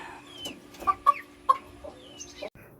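Hens cluck near a backyard coop, with several short, sharp clucks and soft calls close by and no talking.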